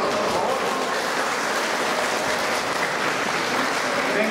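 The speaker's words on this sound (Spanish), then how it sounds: "un fuerte aplauso para todos" An audience at a recital by a vocal and instrumental choir for an older adults' day event in Bogotá applauds steadily, a dense, even wash of clapping that fills the whole stretch without pause.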